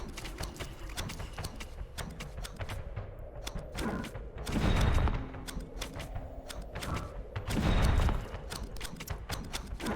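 Two heavy booming cannon tower shots in the tower defense game Isle of Arrows land a few seconds apart over a busy backdrop of rapid clattering and popping game sounds.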